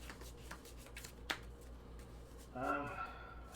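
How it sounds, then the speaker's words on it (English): Magic: The Gathering playing cards are shuffled by hand during a tabletop game, with soft riffling and a sharp snap near the middle, followed by someone speaking briefly. "I'll shuffle them like that."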